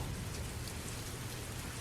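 Steady heavy rain falling at night in a forest around a cabin, a dense continuous hiss of drops on surfaces with a low rumble beneath, constant and close with no voices.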